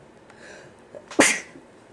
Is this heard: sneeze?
yes